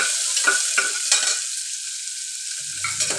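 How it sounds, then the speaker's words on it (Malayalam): Chopped onions sautéing in a pan, a bright steady sizzle with a few quick stirring scrapes near the start, close up and with no talk. "അരിഞ്ഞു വെച്ച സവാള ഇട്ട് കൊടുക്കുക. സവാള നല്ലവണ്ണം മൂപ്പിച്ചെടുക്കാം."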